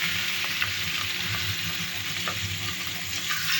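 Shrimp coated with salt and turmeric fry in hot oil, giving a dense, even sizzle with faint crackles and a low bubbling undertone, close and steady throughout.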